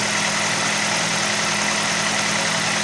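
A Ford C-Max engine idles just after an oil change, giving a steady, even hum with a constant low drone and a faint mechanical whir, close by and with no voices.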